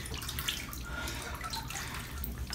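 Running water splashes steadily during a bath for a Norwegian Forest Cat, a continuous close wash of flowing water without pause and no voices.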